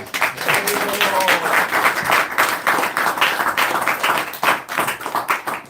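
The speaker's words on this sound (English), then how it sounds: "Give him a big round of applause." An audience at a Sunday feast program at ISKCON Manchester gives a round of applause, dense steady clapping from a crowd heard close and loud throughout, with a few voices faintly underneath.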